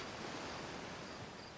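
A waterfall in the space exploration game Outer Wilds rushes steadily as a loud, broad, continuous roar of falling water, unchanging and without voices.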